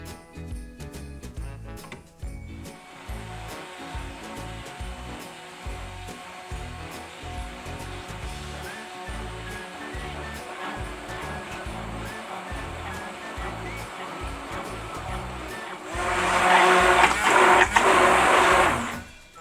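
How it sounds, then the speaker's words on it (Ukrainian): A blender whirs continuously at close range, emulsifying milk and oil into homemade mayonnaise, its motor droning with a rhythmic pulse, then rising to a louder, harsher roar near the end. "Змішуємо молоко та олію в блендері."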